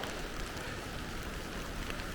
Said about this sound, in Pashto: ډېر تیز باران ووري